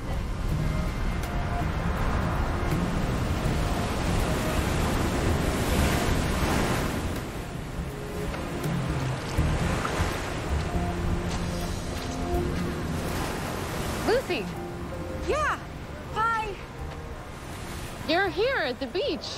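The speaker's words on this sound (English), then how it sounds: "I am here at the beach, yeah." Ocean surf rolls onto a Hawaiian beach in a TV drama scene, with a steady broadband wash and wind noise buffeting the microphone, heaviest in the first few seconds, then a calmer rush as voices come in faintly toward the end.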